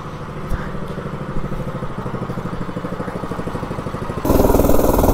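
Home-built Heinz 57 mini bike engine revving steadily with a fast mechanical clatter, climbing in pitch as it pulls through a test run, then jumping louder and rougher near the end as the throttle opens.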